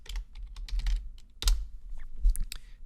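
Typing on a computer keyboard: irregular bursts of crisp, close key clicks with short pauses between them, and no talking.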